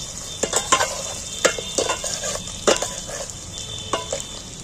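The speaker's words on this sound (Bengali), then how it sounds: "গোটা রসুনগুলো দিয়ে একটু তেলের মধ্যে ভালো করে ভেজে নিতে হবে" Whole peeled garlic cloves fry in oil over softened onions for a village-style mutton curry, a close steady sizzle with repeated sharp scrapes and taps of a spoon stirring the pan.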